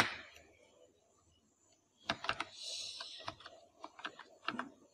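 Typing on a computer keyboard in a quiet room, where soft key clicks start after a pause and come in short, uneven bursts, faint and close.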